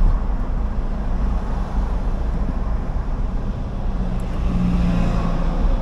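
Dense, steady road traffic roars on the elevated Skyway expressway, a continuous broadband rumble of many vehicles with heavy low-end engine and tire noise and some wind buffeting, loud and unbroken throughout.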